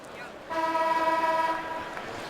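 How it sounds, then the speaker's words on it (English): A penalty box buzzer sounds at an NHL ice hockey game between the Phoenix Coyotes and Pittsburgh Penguins, one steady tonal blast of about a second that rises out of the arena background. "we get the buzzer from the penalty box"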